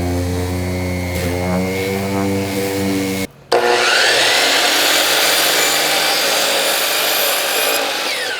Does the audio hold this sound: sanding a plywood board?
yes